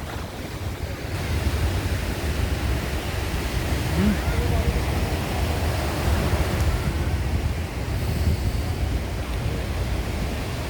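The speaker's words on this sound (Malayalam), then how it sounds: "നിങ്ങൾ കുറച്ച് നേരം കടൽ കാണും" Sea waves wash continuously onto an ocean shore, a broad, steady surf roar with wind buffeting the microphone and no voices.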